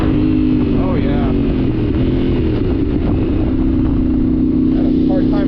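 A Yamaha Ténéré 700 adventure motorcycle revs hard and loud as it accelerates with the front wheel lifted, the engine droning close and steady throughout with a few brief shifts in pitch.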